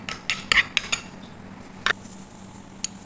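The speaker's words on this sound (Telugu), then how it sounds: "మయోనీస్, చీజ్ ఇలా మిక్స్ చేసుకుందాం చికెన్ ఫిలే శాండ్విచ్ చేసుకోవడానికి" A spoon clinks and scrapes against a bowl while mayonnaise and cheese are mixed for a chicken fillet sandwich. The taps come close and uneven, a burst of them early, then scattered single knocks.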